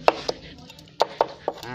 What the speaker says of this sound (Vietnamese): Băm cả vỏ luôn cho nó đẹp.